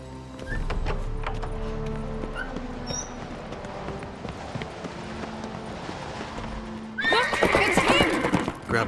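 A horse in The Witcher 3: Wild Hunt lets out a loud, close whinny near the end, following a stretch of quiet ambient game sound and low music.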